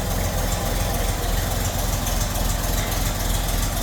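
Rebuilt 1920 Nash car engine running steadily after a timing-off start, a loud, even idling chug with a quick regular beat and rough knocking texture, heard alone.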